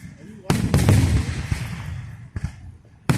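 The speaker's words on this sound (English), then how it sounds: "you'll see fireworks" Fireworks bursting at a lakeside July show, a sharp bang followed by rumbling crackle, then further pops and another sharp report near the end, moderately distant, with people nearby.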